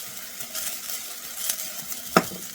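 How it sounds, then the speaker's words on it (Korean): Quinoa is stirred in olive oil in a hot pan, a soft, steady sizzle with scraping strokes and one sharp utensil clink near the end. "이렇게 해서 지금 눌지 않게 올리브유에다 살짝 볶아줘"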